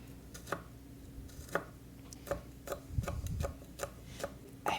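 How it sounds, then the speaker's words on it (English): A kitchen knife chopping spicy peppers on a cutting board for mapo tofu, a dozen sharp, quiet taps in an uneven rhythm with no voices. "Every time I cut these, I feel like they're gonna be really spicy"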